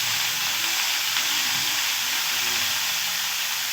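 Diced new potatoes hit hot oil in a pan, giving a loud, steady, close-up sizzle that hisses evenly from start to finish.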